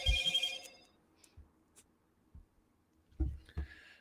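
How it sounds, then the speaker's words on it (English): A phone's ringtone goes off indoors, a tonal, bell-like burst at the start and another near the end, with soft handling noises and quiet gaps between. "Is that my phone?"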